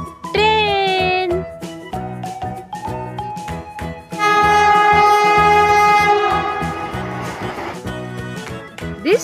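A cartoon train horn blares in tones over rhythmic clattering of wheels and cars, loud and close, with a longer, richer horn blast midway.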